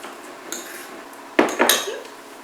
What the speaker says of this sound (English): we're just mashing this butter into the pesto to make like a compound butter